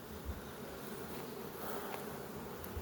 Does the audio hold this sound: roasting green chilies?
no